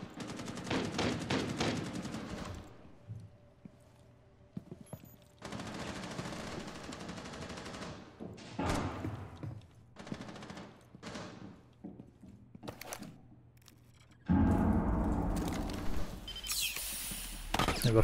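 Gunfire in the console shooter Rainbow Six Siege, with bursts of rapid automatic shots and single cracks spread across the stretch, some distant and some close, and a loud sustained burst near the end.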